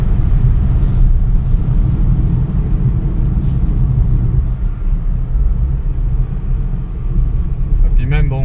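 A Peugeot 104 S with a twin carburettor engine, driven without power steering: a loud, steady low engine drone and cabin rumble all the way through, with people talking over it.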